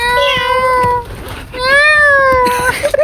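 A person's voice imitates a cat, producing two drawn-out, wavering meows close to the mic with a short gap between them, over a noisy background of friends at an evening get-together.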